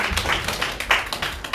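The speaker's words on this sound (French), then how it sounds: "ça mérite des applaudissements" A conference audience in Senegal applauds at the closing of an annual marketing colloquium, a dense, close burst of clapping with uneven sharp claps running steadily throughout.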